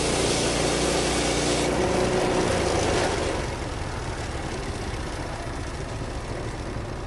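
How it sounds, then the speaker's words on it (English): The small engine of a Timbery M100 portable sawmill, milling a pine log, runs steadily with a rough, throbbing drone, louder and busier at first, then settling into an idle set too low. "The motor sounds like it idles a little too low to begin with"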